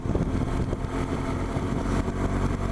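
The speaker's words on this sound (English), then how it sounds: "So many bikes around here." Several motorcycles ride past on a Peak District road near Matlock Bath during a Sunday bike meet, a loud, continuous engine roar with rising and falling passes and no talk.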